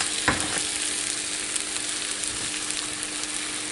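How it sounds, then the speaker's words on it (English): Rice being stirred with turmeric, herbs and seasonings in a hot pan, a continuous soft sizzle with occasional scraping clicks of the utensil, close and alone. "Mixing this rice into the seasonings, the herbs that I put in there"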